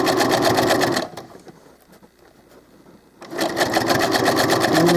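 A sewing machine stitches Velcro onto doll clothes in fast, steady runs, loud and close, with a quieter pause of about two seconds in the middle before the motor starts up again.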